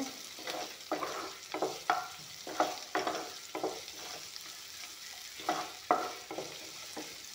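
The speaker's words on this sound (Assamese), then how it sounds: "এয়া চাওক, ধুনীয়াকৈ ভাজি ল'লোঁ পিঁয়াজ, আদা, পাঁচফোৰণখিনি।" Onion, ginger and panch phoron fry in a pan with a steady sizzle, while repeated stirring strokes scrape through it in a regular rhythm, close and clear with no voices.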